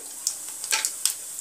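Cumin seeds frying in hot oil while being stirred for matar paneer, a faint, crackly sizzle with a few light scrapes and clicks from the spoon against the pan.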